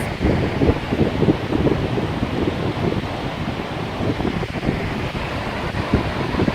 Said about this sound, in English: I'll let you see the waves.